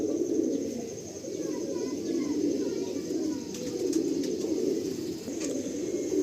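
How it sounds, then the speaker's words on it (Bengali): Ablak pigeons held in the hand at a Ranihati pigeon loft coo in a steady low murmur, close and continuous, with faint chirps over a dense background. "দুটো পায়রা এখানে হাতে রয়েছে আবলুক পায়রা"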